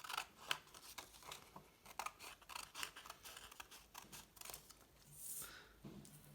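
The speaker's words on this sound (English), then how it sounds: "I'm going to take a pair of scissors just so it can be cleaner cut" Scissors snip through a sheet of origami paper in a series of quick, crisp cuts at close range, with faint rustling of the paper between the snips.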